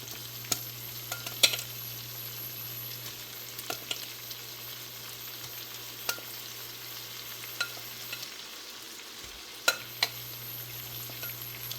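Shrimp cook in a pan over turned-up heat, giving a constant close sizzle with scattered light utensil clinks and stirring scrapes, no voices.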